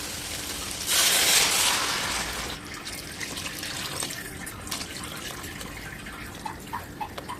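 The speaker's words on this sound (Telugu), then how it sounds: "మనం దీంతోనే కొలత అయితే వాటర్ కూడా నాలుగు వేసుకుందాం రెండటికి నాలుగు" Water pours into a pot of washed rice for beetroot pulao, a loud gush over the first two seconds easing into softer running and trickling, with a few drips near the end.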